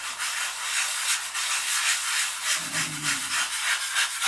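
Steady back-and-forth sanding on a repaired part with a rebuilt tip, rib and patched sheeting, the rasping strokes loud and close, with a brief low hum midway and no talking.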